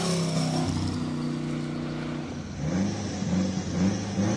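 A turbocharged Porsche 924 GTB tribute pulls away from a hill climb start line, its engine note rising through gears in clear revving harmonics, fairly close, with a shift and renewed climb midway.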